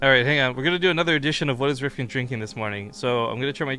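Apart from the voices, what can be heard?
No distinct noise like a dog, phone or traffic.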